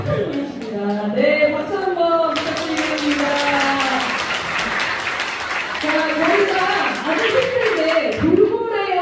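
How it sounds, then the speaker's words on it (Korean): Steady crowd applause fills the clip, a dense wash of clapping with a voice speaking over it near the start and end. "박수 한번 부탁드리겠습니다."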